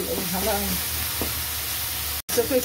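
Onion paste frying in a pan for ghugni cooked with fat, giving a steady close sizzle with a brief dropout near the end.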